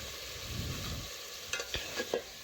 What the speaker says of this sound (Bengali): আমি আবার একটু দেখুন নাড়াচাড়া করে নিচ্ছি